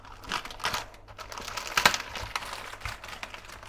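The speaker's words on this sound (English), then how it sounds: "Just cut open this meat pie." A meat pie's packaging is cut open by hand, with crisp crinkling and tearing plastic, sharp snips and rustles in an irregular rhythm, close and moderately quiet, with no talk.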